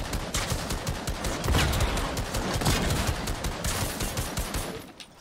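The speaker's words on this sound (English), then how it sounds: "Where's the friend who's shooting at us?" Video game gunfire, a loud continuous fusillade of rapid shots and bursts rattling on for several seconds before cutting off near the end.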